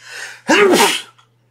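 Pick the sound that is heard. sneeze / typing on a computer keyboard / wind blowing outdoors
sneeze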